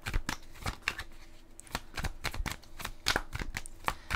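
Tarot cards shuffled in a steady series of crisp riffling bursts and soft slaps, close and moderately loud, with no talking.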